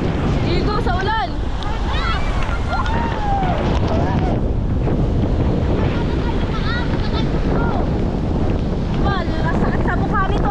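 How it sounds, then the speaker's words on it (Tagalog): Strong wind buffets the microphone on a small boat heading into rough seas with big waves and rain near Bucana. The roar is constant, with wave wash underneath and shouted voices breaking through at moments. "Sinasalubong namin guys ang hangin."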